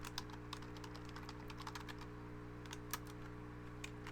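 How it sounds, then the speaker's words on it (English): Fast, quiet clicking of keys on a computer keyboard in a steady burst, faint and close, with a low hum underneath. "I'm going to type it in here right now."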